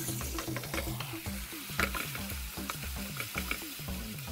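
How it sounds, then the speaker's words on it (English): Beef mince frying in coconut oil in a large pan, with a steady close sizzle and a repeating rhythmic scraping as the meat is stirred and pushed around; no one speaks. "In a large pan, a drizzle of oil. I'm using coconut oil today. For that pan, your beef mince."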